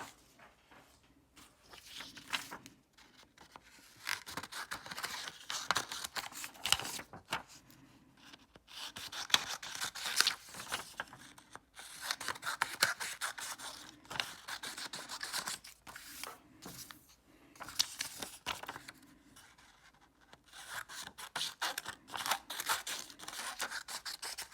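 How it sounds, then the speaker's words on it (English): Scissors snip through paper pages in repeated bursts of crisp cutting and rustling, close and alone, with short pauses between runs of cuts. "using our scissors, which should be in your bag, we're going to cut out these pages or pictures on the bottom"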